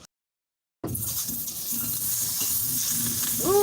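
Cold butter hits a hot frying pan and erupts into a bright, steady sizzle right after a moment of silence, with light stirring and scraping sounds mixed in as it cooks.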